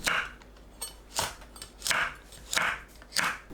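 A knife slices green onions into rounds and chili peppers on the diagonal, producing a steady rhythm of crisp chopping strokes against a board, close and moderately loud, about one cut every half second or so.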